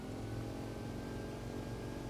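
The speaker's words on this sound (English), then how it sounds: "Oh, I like how smooth this engine sounds" A boat engine in the fishing game Fishing: Barents Sea runs with a smooth, steady low hum and faint tonal whine, quiet and unbroken for the whole moment.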